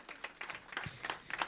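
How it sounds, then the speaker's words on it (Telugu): An audience at Brahmanandam's 70th birthday event gives Raghurama Krishna a short round of applause: faint, uneven clapping from a scattered crowd. "రఘురామకృష్ణ గారికి ఒకసారి గట్టిగా చప్పట్లు కొట్టాలి"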